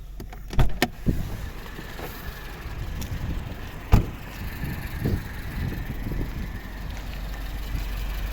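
Power window lowering on a 2007 Mercedes B 170 with a 1.7 petrol engine, a steady electric motor whine heard inside the car over a low engine hum, with a few clicks and thumps near the start.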